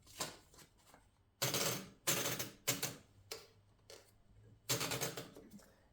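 Paper is wound into a Mercedes 6 typewriter, the platen ratcheting in several short, loud clattering bursts separated by pauses, close up and without speech.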